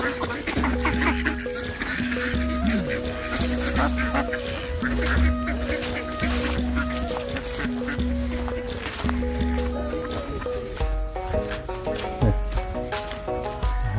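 Ducks and geese at feeding time in Richmond, Tasmania, honking and calling steadily and fairly close over a continuous, busy background, with a voice speaking now and then.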